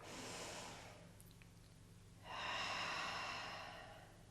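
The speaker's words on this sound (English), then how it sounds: "One more deep breath." Slow, deep breaths during a balance exercise, a soft inhale followed by a longer, airy exhale, quiet and close with no talking.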